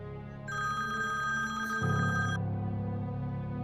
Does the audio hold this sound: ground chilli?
no